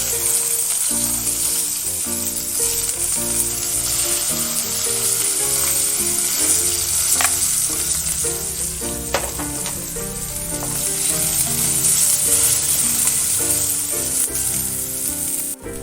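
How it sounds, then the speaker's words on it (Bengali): Eggplant pieces fry in hot oil with dried red chili, giving a loud, steady sizzle that runs unbroken throughout, with occasional crackles and spatters. "শুকনো লঙ্কাটা লাল হয়ে গেছে, এবার আমি বেগুনগুলো দিয়ে দেবো।"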